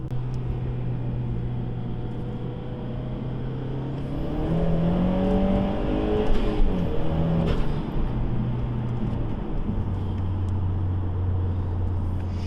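Mazdaspeed 3 hot hatch engine and exhaust running close by with a sustained, raspy drone. The revs climb and fall through the middle before settling back to a steady hum, with no talk.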